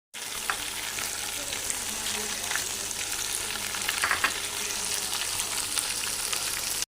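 Garlic ginger paste, whole garam masala, salt, red chilli and biryani masala fry in a pan for chana pulao, giving a steady, dense close-up sizzle with faint stirring scrapes throughout and no talking.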